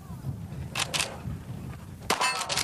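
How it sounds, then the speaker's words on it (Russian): Bullets strike a steel target outdoors, producing a few sharp metallic clangs with ringing tails, two close together early and a louder one near the end. "повторите выстрел Джона Уэйна по стальной мишени"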